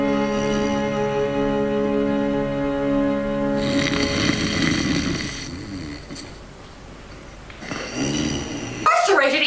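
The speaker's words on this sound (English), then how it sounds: "You know you got a snoring problem?" A person snores in long, rasping, droning breaths indoors, the rhythm rising and fading, with a voice briefly heard near the end.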